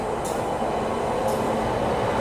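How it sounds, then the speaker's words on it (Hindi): A freight train led by a Kanpur-shed locomotive rumbles steadily as it arrives at Gaya railway station, with a continuous low roar and rattling, a couple of faint high hisses briefly standing out. "साथ में इधर मालगाड़ी का भी अराइवल हो रहा है।"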